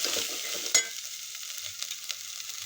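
Red chilli powder sautéing in a pan for mutton curry, a steady close sizzle with a sharp stir or scrape near the start, then a softer crackle that thins out.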